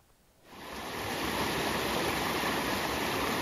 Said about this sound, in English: This is Pure Grass Creek